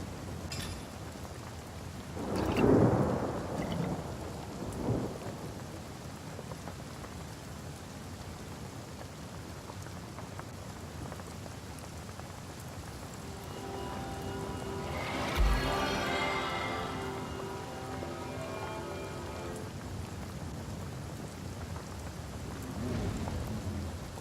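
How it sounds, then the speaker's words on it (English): Rainstorm ambience in the video game Divinity Original Sin Enhanced Edition, a steady hiss of rain throughout with a couple of louder thunder rumbles, one early and another about two-thirds through, and no talking. "Hopefully the rain will extinguish the fire."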